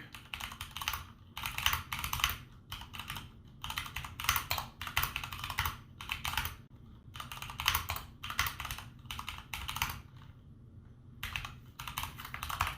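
Rapid clicking of a computer keyboard as eBay seller feedback is typed, in close, steady bursts of keystrokes separated by short pauses.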